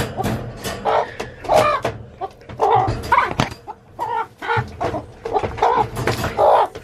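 A broody hen clucks in a close, irregular string of short bursts, with no talk over it.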